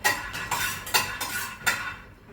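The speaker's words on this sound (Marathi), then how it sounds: "शेंगदाणे ऑलरेडी भाजून ठेवलेले होते त्यामुळे मी थोडेसे भाजणार आहे" Already-roasted peanuts being dry-roasted a little more in a pan, with a spoon scraping and stirring them in four or five distinct, fairly close strokes over a soft rustle.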